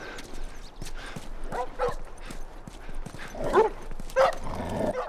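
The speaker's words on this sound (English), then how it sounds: "Okay, the dogs are running away." Dogs in The Last of Us video game bark and yip as they run away, the barks scattered and mid-distance over a busy game soundscape.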